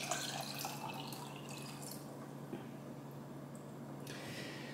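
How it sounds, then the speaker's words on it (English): Water pours over ice in a glass for cold brew coffee, a steady close hiss with soft trickling and dripping, fading slightly midway before swelling again. No one speaks. "So, we're gonna do the water first."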